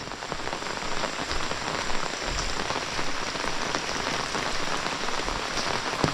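Heavy monsoon rain pours steadily on surfaces in a Konkan village, a dense, continuous hiss with no voices.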